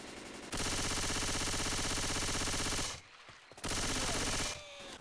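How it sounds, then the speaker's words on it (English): Loud, continuous automatic gunfire from a Left 4 Dead 2 co-op match as players shoot zombies, a sustained burst of rapid shots that drops out briefly and then resumes for another long volley. "Why won't these zombies die? I shoot them several times."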